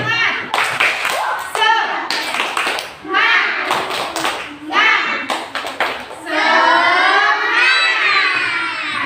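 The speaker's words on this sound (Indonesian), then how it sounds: "ayo tepuk semangat biar semangat juga" A first-grade class and teacher perform a clapped 'tepuk semangat' cheer in a rhythmic pattern of claps and taps, mixed with chanted and sung voices and ending in a longer sung phrase.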